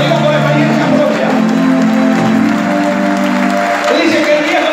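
A church congregation applauds during a sermon, a steady wash of clapping that runs for the whole stretch beneath voices and tonal sound.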